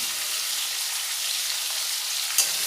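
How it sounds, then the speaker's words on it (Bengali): Potatoes fry in a pan with turmeric and salt, a steady close sizzling hiss throughout, broken by a single small clack near the end. "দিয়ে খুব ভালোভাবে নাড়াচাড়া করে লাল লাল করে ভেজে নেব।"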